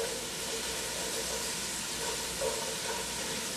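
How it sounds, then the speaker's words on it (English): Shallots sizzling in olive oil in a heated pot, a steady broadband hiss holding evenly throughout with no pauses, close and moderately loud. "put some olive oil, and now we're adding our shallots"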